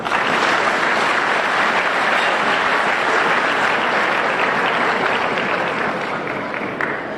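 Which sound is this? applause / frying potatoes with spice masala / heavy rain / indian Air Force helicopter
applause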